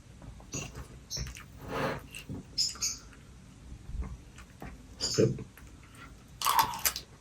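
A close-miked person chews and eats a Thai crown egg dish with rice, making wet smacks, soft crunches and bites in an irregular rhythm. There is no speech.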